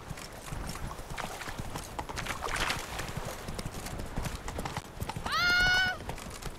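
A horse gallops with rapid clip-clopping hooves in The Witcher 3: Blood and Wine, steady and fairly close over ambient game sound, then a sharp whinny rises near the end.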